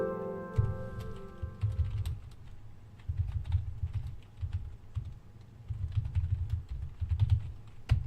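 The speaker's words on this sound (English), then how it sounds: "the reason why I'm typing every single little thing here" Someone types on a computer keyboard, bursts of quick, close key clicks separated by short pauses, with a faint tonal sound at the start.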